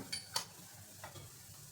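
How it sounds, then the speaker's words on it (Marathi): Betel leaf tambul mixture being stirred by hand, giving a few faint, sparse clicks and light scrapes at the start and again near the middle over a quiet, near-silent background. "आपल्याला आता हे फिरवून घ्यायचे तर मिक्स करून घ्यायचं आहे थोडं"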